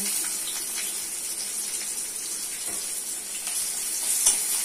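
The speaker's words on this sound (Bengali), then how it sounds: "পেঁয়াজ লাল লাল করে ভেজে নিতে হবে" Onions frying in hot oil in a wok, the oil already seasoned with cumin seeds, bay leaf and dried chillies, give a steady, close sizzle and hiss that stays even throughout, with no talk.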